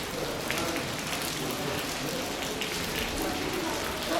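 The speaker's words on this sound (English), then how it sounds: "it is chucking it down with rain" Heavy rain hammers down in a mountain village in Bulgaria, a dense steady hiss of drops on surfaces heard close and unbroken throughout.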